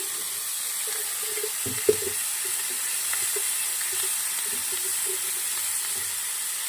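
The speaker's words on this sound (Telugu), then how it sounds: "ఈ టమాటా కొంచెం బాగా సాఫ్ట్ అయ్యే వరకు వేసుకున్నాము." Tomatoes fry in a pan with a steady, even sizzle and hiss, close by at moderate volume, broken by one brief knock of a utensil.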